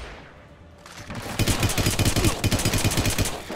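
Rapid automatic gunfire in the video game Hitman Absolution, a dense burst of loud sharp shots firing in quick succession, starting after a short quiet lead-in.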